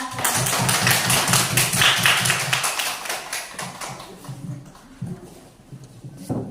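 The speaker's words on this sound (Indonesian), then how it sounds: "karena itu kita beri tepuk tangan ya" A class of students claps together in a classroom, with loud rhythmic bursts of clapping at first that thin into scattered, softer claps toward the end.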